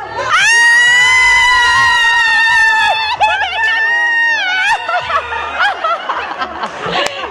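A large crowd in Davao City shouts and screams loudly at the end of a countdown. Children's high voices and cheering dominate and stay close and intense, breaking into scattered laughter and yells.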